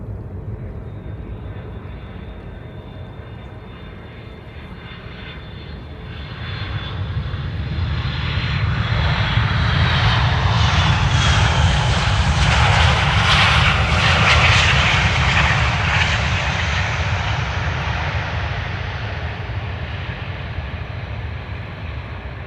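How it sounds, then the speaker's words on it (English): A 26-year-old Boeing 757-200 arrives at Amsterdam Schiphol, its jet engines swelling from a distant whine to a loud, broad roar as it passes close by, then easing off. "26-year-old 757-200. What a looker. Let's listen how it sounds like"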